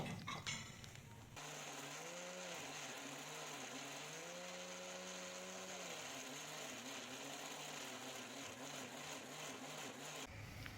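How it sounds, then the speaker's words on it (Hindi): An electric blender jar grinds onions and tomatoes with water into a fine masala for beef paya, running as a steady, loud motor whir for several seconds with slight shifts in pitch before stopping. "अब हम जग को कवर कर देंगे और हमने मसाले को बारीक पीस लेना है"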